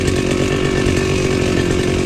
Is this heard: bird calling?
no